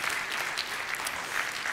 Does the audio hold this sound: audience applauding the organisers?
yes